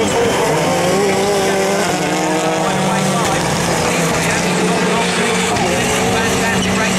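Rallycross cars race nose to tail at Croft circuit, engines roaring loudly and continuously with shifting revs as they climb, while a commentator talks over the noise.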